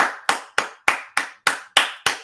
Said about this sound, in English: We got to give a round of applause for him, man.